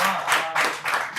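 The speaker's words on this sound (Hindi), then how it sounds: "अब मेरे को आपकी तालियां बहुत मिल गई।" An audience at an open mic poetry night in Vadodara claps after a ghazal recital, with brief surging waves of applause and a few voices mixed in.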